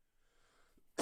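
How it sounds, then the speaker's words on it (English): A single loud, abrupt throat clearing at the very end, coming right after near silence with faint background noise, close to the microphone. "I need to clear my throat."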